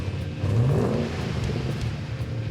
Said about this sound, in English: The new catback exhaust and cold air system was sounding great.